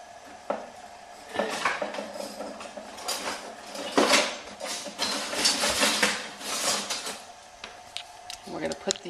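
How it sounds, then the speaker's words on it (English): Tongs lifting spaghetti squash into a pan of melted butter, giving irregular metallic clinks and scrapes against the pan, fairly close and loud, with a person talking over them. "we're going to put the spaghetti squash in the melted butter"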